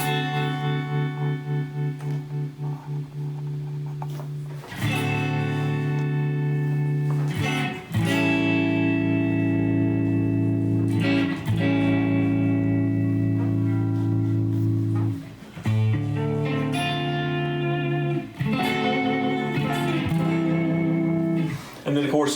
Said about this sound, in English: let's do some tremolo.